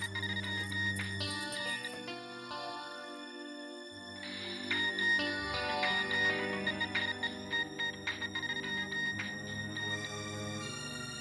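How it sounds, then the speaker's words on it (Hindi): A phone ringtone plays a bright, repeating electronic melody, fairly soft and steady throughout, with no voices over it. "लगता है आ गया मेरे बीजू का फोन।"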